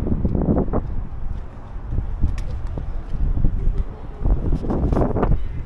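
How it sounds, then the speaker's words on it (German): Steady wind gusting across an open city viewpoint in Munich, roaring and buffeting the microphone in continuous waves with a brief faint voice or two underneath. "Nice, windy."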